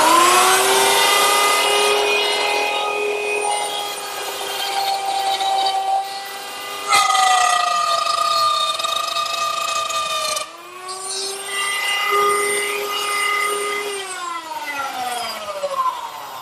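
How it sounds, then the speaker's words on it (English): Router plunging into a wooden leg with a stop block to cut a mortise for a blanket chest, a steady loud high-pitched whine that bends in pitch as the bit bites in, running continuously with two brief breaks. "to cut that, I use the same router setup with a stop block in a new position and a reference line to plunge down into the router bit"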